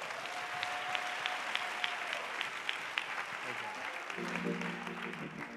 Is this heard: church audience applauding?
yes